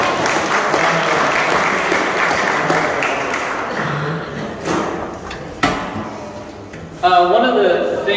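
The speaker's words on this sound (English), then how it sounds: "give him a round of applause" A church audience applauds as a man is called up to the front. The clapping runs steadily, fairly loud and broad, eases a little midway, and swells again near the end.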